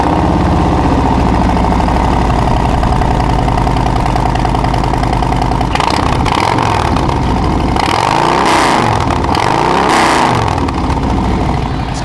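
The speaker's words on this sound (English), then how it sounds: "we have the Tab Performance exhaust. It's going to have some good rumble on it." A Harley-Davidson Road Glide 114 M8 V-twin with Tab Performance exhaust rumbles loudly and up close at a steady idle, then gives a couple of deep blips of throttle toward the end.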